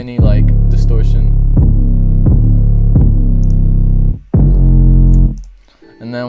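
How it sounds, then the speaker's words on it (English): A clean 808 bass in FL Studio, with no distortion applied, plays loud, deep sustained hits in a steady rhythm of about five notes, the last one cut short. "that's the 808 without any like distortion"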